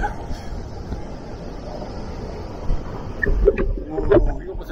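Atlantic Ocean surf rolling in as a broad, steady wash with wind buffeting the microphone, swelling slightly toward the end; people talk over it.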